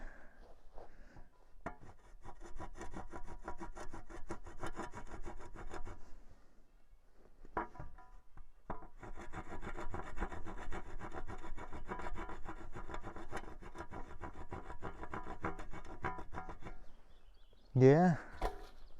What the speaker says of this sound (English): might be lead, judging by how easily it's scraped